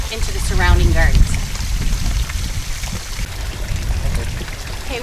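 Water pours steadily into a garden fish pond during spring opening maintenance, a continuous splashing rush with a broad watery hiss, close and fairly loud, with a brief voice early on.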